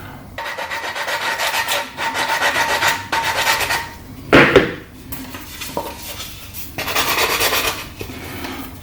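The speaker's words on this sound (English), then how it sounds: "Still sanding away like a good one here." Hand sanding on a wooden Dalek model: steady rasping strokes in bursts with short pauses between, close and fairly loud, alone without talk.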